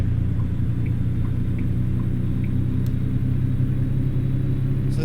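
International semi truck engine in American Truck Simulator, driving on a Texas highway: a steady low rumbling drone held evenly throughout, with no talk over it.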